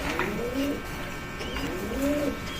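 Racing pigeon hens in a loft coo in low, throaty, rising-and-falling phrases, two or three calls close by over a light background hum.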